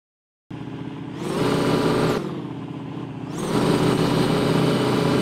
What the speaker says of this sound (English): Here is the big boy tractor.